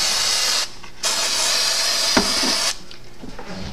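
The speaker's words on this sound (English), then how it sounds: "we're going to spray this piece liberally with glue" Glue sprays from a spray can onto a piece and inside a bag, coming as two close hissing bursts, a short one and then a longer one, with a light knock between them.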